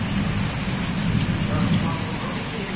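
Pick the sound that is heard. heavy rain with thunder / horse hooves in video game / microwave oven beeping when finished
heavy rain with thunder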